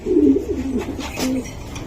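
A pigeon coos close by in a few low, rolling, throaty phrases, loud and alone with no talk over it.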